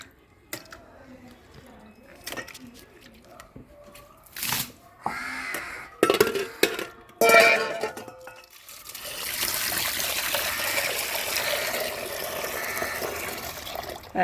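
Steady running water pours for several seconds while fish is washed, after a few clattering knocks and bumps, a continuous splashing hiss close by.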